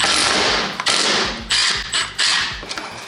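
Nail jammed by hand through a part for a drill-powered kayak, giving a few close, loud taps and thuds with creaking scrapes between them.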